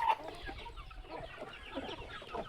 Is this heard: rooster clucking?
yes